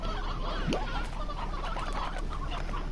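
Chickens and a rooster in the video game Slime Rancher give soft clucks, with a short rising squawk near the start over a steady low background hum.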